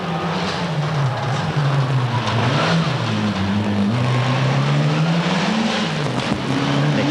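Mitsubishi Lancer Evolution rally car in Group N at the 1994 Rally of Malaysia races along a stage, its engine droning loudly and shifting pitch up and down as it revs, near and continuous.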